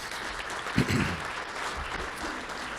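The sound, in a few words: audience applause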